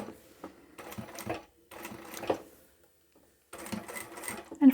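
A sewing machine back-stitches along the edge of fabric for a small drawstring pouch, sounding in three close, steady bursts of whirring needle chatter separated by short pauses.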